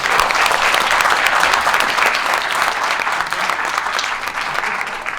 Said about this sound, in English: can I get a round of applause for both of them?